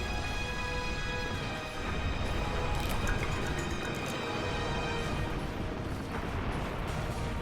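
Heavy cannon fire booms through a loud, continuous Monster Hunter Generations Ultimate hunt, with crashing impacts and clanking mechanisms layered in a dense, unbroken wash of noise.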